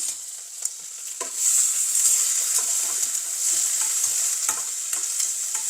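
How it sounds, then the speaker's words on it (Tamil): Ginger, onion and pumpkin sautéing in a pan at home, a steady oil sizzle with occasional spoon stirs and scrapes, close and fairly loud, no talking. "இப்போ இதெல்லாம் நல்லா வதக்கிட்டு இந்த பூசணியும் நான் இதில் சேர்க்க போடுறேன்"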